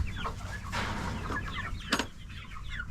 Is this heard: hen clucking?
yes